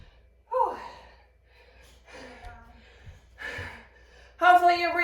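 Heavy, breathy gasps and exhalations come in several separate bursts during a high-intensity total-body workout just after reverse lunges. The breaths are close and fairly loud, with a voiced, sigh-like breath at the end.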